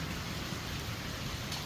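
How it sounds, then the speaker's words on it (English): Steady rain hisses down on a flooded backyard garden in the Sonoran Desert, an even wash of noise without a break and with no one speaking. "So yeah, it does rain."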